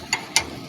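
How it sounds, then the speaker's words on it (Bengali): A wrench works loose the 12 mm nuts on a toto (e-rickshaw) handle, giving two short, close metallic ratchet clicks in quick succession against a quiet background. "খুলে নেওয়ার পর দুই পাশে দুটো 12 ভোল্ট নাট, 12 নম্বর নাট থেকে ওই দুটোকে লুজ করে নেব।"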